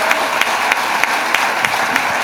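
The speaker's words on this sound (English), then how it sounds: "Could we give Seafair a really serious round of applause here?" A room of guests at a Rotary luncheon celebrating Seafair in Seattle applauds, a steady wash of clapping with faint periodic sharper claps standing out, lasting a couple of seconds without talk.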